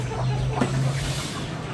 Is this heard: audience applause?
no